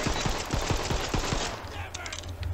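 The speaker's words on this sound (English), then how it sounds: "And this pistol's pretty effective, though." Pistol gunfire in the video game Tiny Tina's Wonderlands: a quick run of about eight sharp, loud shots in steady rhythm, then the firing stops and quieter game sounds with high tonal chimes follow.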